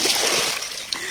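A Labrador dog swimming and splashing in water, a short burst of close sloshing and splatter with a sharp splash near the end.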